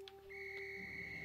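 A bright, steady in-game whistle rings out for about a second, a sustained pure tone starting a beat in over soft game background sounds, with no talking.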